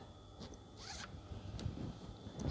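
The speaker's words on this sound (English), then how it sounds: "so if I close the zip" A zip is drawn shut on a piped fabric scatter cushion cover, a short close-up series of quiet ratcheting rasps and scrapes lasting a couple of seconds, soft and alone.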